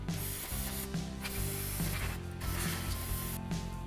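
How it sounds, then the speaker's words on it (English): Brake parts cleaner sprayed from an aerosol can onto grimy power steering pump bolts in an engine bay, a steady close hiss running continuously and evenly under a low mechanical hum. "I'm just going to use some brake parts cleaner to clean some of the grime off so I can see the bolt heads better."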